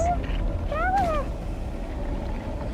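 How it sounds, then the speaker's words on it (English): A cat in the Genshin Impact video game gives a single rising and falling meow over soft ambient game background, while a player talks. "There's a kitty over there."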